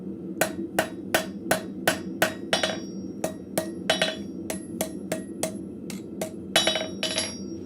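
Metal hammer blows clean up the base of a socket on an arrowhead forged from scrap steel, striking in a steady run of about twenty sharp, ringing impacts at a quick, even pace, close and loud.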